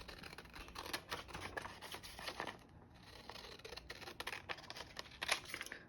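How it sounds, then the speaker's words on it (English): Scissors snip through cardstock and patterned paper while cutting out a piece for a scrapbook page wrap, giving repeated close crisp cuts and rustles across the whole stretch with no talk. "We're just going to go ahead and cut that out."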